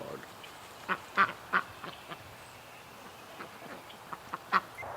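A duck in distress gives a few sharp quacks during a farmyard scuffle with a dog, the calls spaced irregularly over a faint, noisy outdoor background.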